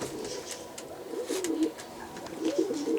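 Pigeons cooing inside a coop, several overlapping low throaty coos recurring in bursts at close range, over a soft background rustle.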